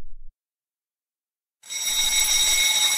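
A fire alarm pulled as an April Fool's prank in a cartoon comedy scene rings out loud and continuous with a shrill, steady electronic tone, starting after a brief silence and sustaining to the end.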